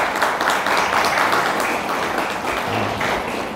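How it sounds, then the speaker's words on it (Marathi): A gathered audience claps steadily to congratulate someone on a birthday, producing a dense, even wash of applause that holds at the same level throughout. "टाळ्या वाजवून,"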